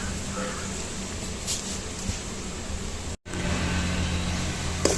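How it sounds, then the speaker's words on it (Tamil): Garlic frying in a pan for curry leaf thokku, a dense, loud, even sizzle that runs throughout, with one brief dropout partway through. "நல்லா பூண்டு சவுண்டு வந்துருச்சு"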